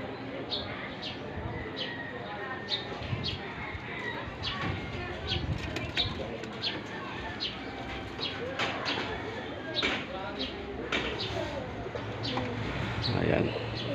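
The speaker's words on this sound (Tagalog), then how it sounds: "So ayan sila mga kalapatids, yung mga ibon natin." Young racing pigeons coo and flutter in a loft, soft throaty calls and wing flaps mixed with chirps while someone talks over them.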